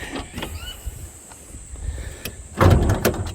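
The bonnet of a 1972 Jaguar XJ6 swings open on its hinges, a few soft mechanical clicks and creaks followed by a louder clunk near the end, with no talking.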